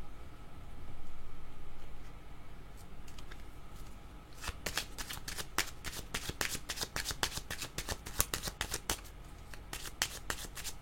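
A deck of cards is riffled and shuffled close by, with a dense flurry of crisp flicks after a few seconds of soft handling against a low background hiss.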